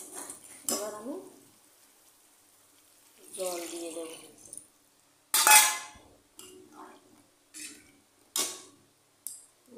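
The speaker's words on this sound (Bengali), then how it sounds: "মশলাটা পুরোপুরি ভাজা হয়ে গেছে" Spices sizzle and crackle in a hot pan in short bursts, with stirring and clinks of a utensil, while a person talks in between.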